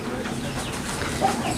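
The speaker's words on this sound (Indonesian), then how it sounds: "Dan ini orangnya lagi sibuk ngasih makan ayam guys." Kampung chickens clucking inside a coop on a small farm while they are being fed, a steady busy layer of clucks and rustling with a bit of low background noise.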